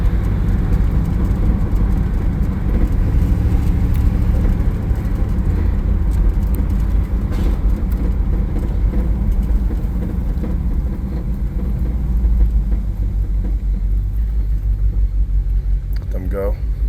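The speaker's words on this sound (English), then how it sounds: "Ain't nothing better than driving around in a classic car on a beautiful day, right?" A 1955 Chevrolet Bel Air two-door hardtop cruises down a main road, its engine a steady low rumble with road noise that holds level throughout, close and continuous.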